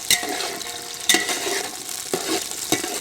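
Vegetables and garlic sautéing in a pot for Hariyali pulao, a steady sizzle broken by a few sharp stirring scrapes, close and moderately loud with no talk.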